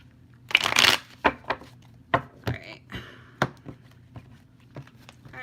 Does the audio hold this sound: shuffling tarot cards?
yes